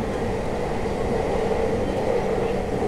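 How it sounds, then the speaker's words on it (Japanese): A train rumbles steadily at speed inside the long Hokuriku Tunnel in Japan, a dense, continuous low roar with constant loudness and no talking. "長い長い北陸トンネル、そこを列車は高速で走り抜けます。"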